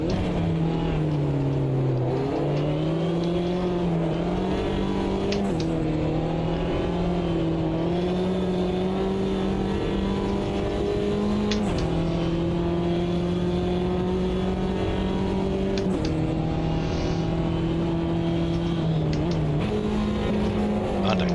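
Race car at Silverstone in a sim racing game, its engine holding a loud, steady drone that drops sharply in pitch at several gear changes, including one quick double downshift, with no talk over it.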